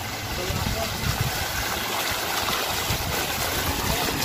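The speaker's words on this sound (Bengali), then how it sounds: "এখানে বেশ বড় একটি ঝর্ণা করা হয়েছে।" Steady broadband rush of falling water from a large fountain in an eco park, continuous and fairly close, with no breaks across the whole stretch.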